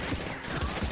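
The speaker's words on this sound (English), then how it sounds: "Shotgun to the face." A single heavy shotgun blast booms in a Fortnite Battle Royale match, close and loud, with a short, muffled, reverberant tail and no talk over it.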